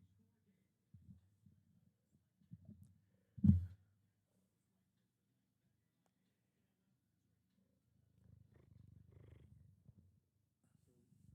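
A person imitates a cat's purr with a low, close rumbling voice in two stretches, broken by a single short thump between them.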